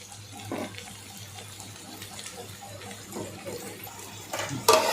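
Water is poured into a pan of village-style okra curry, a quiet gurgling trickle that ends in a sudden louder gush, with faint kitchen clatter and no talk.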